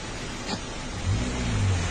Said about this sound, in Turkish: Araçtan gelen sesi bulmaya çalışıyormuş adam.